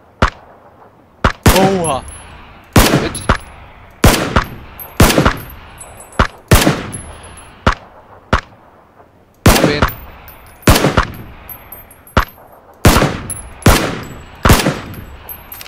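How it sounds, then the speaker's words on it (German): Loud, close single gunshots ring out in PUBG, about fifteen sharp cracks with ringing tails fired in an uneven rhythm, some in quick pairs, while a player briefly exclaims. "Ich schieße auch einfach, da liegt er."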